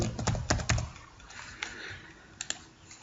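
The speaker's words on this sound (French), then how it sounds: "on va taper consommation de sucre" Fingers type on a computer keyboard while entering data into an Excel sheet, a quick cluster of close, crisp key clicks at first, then sparser single taps with quiet pauses between.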